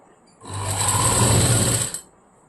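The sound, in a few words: sewing machine stitching a blouse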